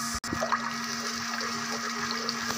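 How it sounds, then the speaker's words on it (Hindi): Onions fry in hot ghee in a pan, a steady loud sizzle that holds from start to end under a constant hum. "प्याज फ्राई हो रहा है"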